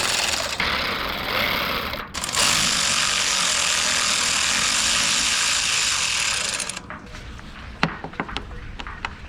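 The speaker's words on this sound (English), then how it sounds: "you are then going to remove the actual tensioner bolt" A BMW serpentine belt tensioner bolt being loosened with a 13mm ratchet: a long, rapid, buzzing ratchet run clicks continuously for several seconds, then gives way to a few separate metallic clicks and knocks near the end.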